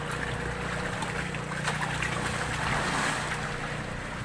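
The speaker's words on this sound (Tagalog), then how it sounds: "Siguro may dumadaan na bangka." A boat engine drones steadily in the distance, mixed with wind and a wash of water, fairly faint and without voices.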